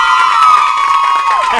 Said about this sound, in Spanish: Por favor, un fuerte aplauso para mi querido Mario Jefferson.